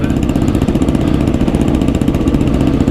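Suzuki DRZ 400 dirt bikes ride through on a high country trail, their single-cylinder engines droning loud and close with a steady, slightly pulsing rumble throughout.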